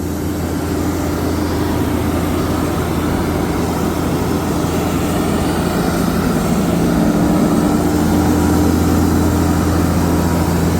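A Massey tractor engine runs steadily while driving a pump, with a compressor mounted on its front end, giving a loud, continuous low drone that holds constant throughout.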